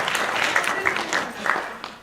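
Applause from an audience gathered for a special occasion honoring Sai Baba, steady crowd clapping with scattered sharper claps over a continuous wash, moderately loud and fairly close.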